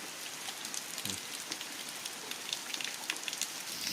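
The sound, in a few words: rain falling in the forest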